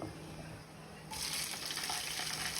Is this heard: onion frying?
yes